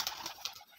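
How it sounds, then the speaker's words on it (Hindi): Domestic pigeons leaving their coop in a short burst of wing flaps and fluttering, with faint bird sounds mixed in, close by and moderately loud. "ये कबूतर मेरे हैं जो यहाँ से अभी निकल के जा रहे हैं"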